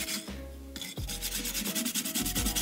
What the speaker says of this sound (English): Now I'm going to clean the piston.